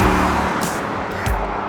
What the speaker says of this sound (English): it's the sound of the V8 in this car that just completely separates it from the experience of a 911